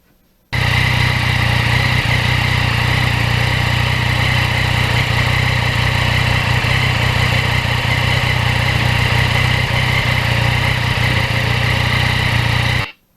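A Yamaha MT-09 motorcycle engine runs steadily with a quiet exhaust, letting a loud, continuous drone of mechanical whir and vibration come through close up for the whole stretch, with no talk.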